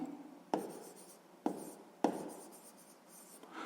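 A pen writes on paper during a sixth-grade maths exercise, with three sharp taps as the pen touches down and soft scratching strokes after each, close and quiet with no talk.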